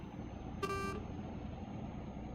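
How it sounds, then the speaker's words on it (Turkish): An electric DAF truck horn in Euro Truck Simulator 2 gives one short, bright toot lasting under half a second over a quiet, low road rumble. "Kornası çok hoşuma gitti ben."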